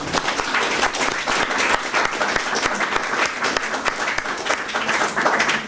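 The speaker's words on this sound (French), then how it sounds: "Je crois qu'on peut l'applaudir" Sustained, dense applause from an audience at an award ceremony for the Prix Maurice Haber 2020, steady and full throughout with no one speaking.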